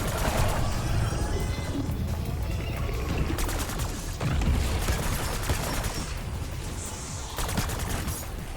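Special weapon firing during a boss fight against the Sentinel Artifact in Black Ops 6 Zombies on The Tomb map, a dense continuous burst of rapid gunfire with booming impacts and game effects, loud and steady throughout with no talking.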